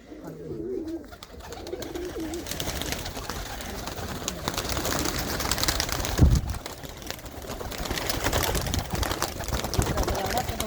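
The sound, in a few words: pigeons cooing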